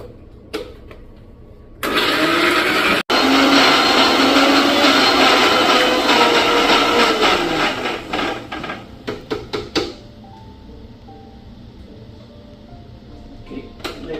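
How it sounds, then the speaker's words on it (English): A kitchen mixer grinder whirs loudly for about seven seconds as it grinds boiled butter chicken ingredients into a fine paste, pausing briefly once, then winding down with a few clunks before quieter background sounds. "Just add it to the mixer grinder jar and grind it into a fine paste."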